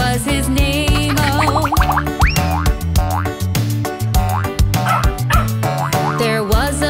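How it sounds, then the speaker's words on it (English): A cartoon dog barks and yips in a nursery rhyme about a farmer's dog, the bow-wows landing on the beat over a busy, bouncy kids' song with music playing throughout. "There was a farmer, had a dog, and Bingo was his name-o"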